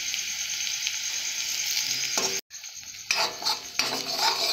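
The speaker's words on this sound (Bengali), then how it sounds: "এইভাবে ভালো করে ভেজে নেবে।" Small puti fish frying in hot oil, a steady loud hiss close by, broken by a brief silent cut and a few scraping stirs before the sizzle resumes.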